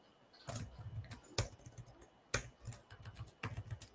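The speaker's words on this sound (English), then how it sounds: "I'm using the shortcut on the keyboard." Keys clack on a computer keyboard during an optical analysis software demonstration, a few separate presses and short clusters of clicks spaced irregularly, close and fairly quiet, with no talking.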